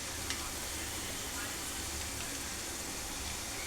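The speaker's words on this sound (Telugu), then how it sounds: "పప్పులు అన్నీ కూడా చక్కగా ఫ్రై అయిపోయినాయి, మాడిపోకుండా ఫ్రై అయినాయి." Lentils frying in hot oil for mango pulihora, a dense continuous sizzle that holds steady throughout, fairly quiet and close, with no voices.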